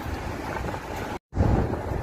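Strong wind buffets the microphone outdoors near a busy Tokyo train station, a steady loud roaring rumble broken by a brief dropout before gusting back in.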